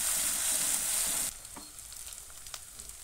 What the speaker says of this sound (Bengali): আদা রসুন বাটাটা 2 থেকে 3 মিনিট ভেজে নেব।